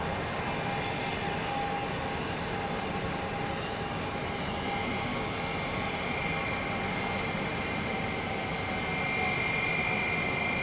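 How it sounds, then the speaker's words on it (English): A Boeing 777 runs in an engine test bay at London Heathrow Airport, heard from a distance as a steady, broad roar with a faint thin whine, unchanging across ten seconds. "Just distantly hear that 777 in the engine test bay."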